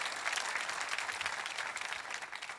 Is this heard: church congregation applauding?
yes